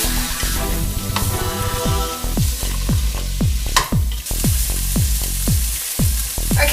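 Onions sizzle in olive oil in a pan for a Moroccan stew: a steady, loud frying hiss broken by a regular run of sharp metallic clanks and scrapes as they are stirred.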